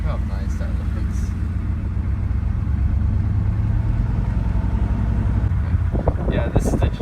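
A 1993 Chevy 1500 pickup's Detroit 6.5 liter turbo diesel idles close by with a steady, loud, low rumble throughout, and a few brief rattling knocks near the end.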